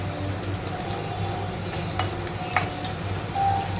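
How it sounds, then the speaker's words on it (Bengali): Onions and capsicum frying in refined oil while being stirred, a close steady sizzle with scraping and light clanks from the spoon against the pan. "ভালো করে নেড়ে চেড়ে নেব"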